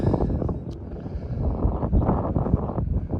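Steady wind buffeting the microphone outdoors in Tucson, a continuous low rumble with gusts rising and falling throughout.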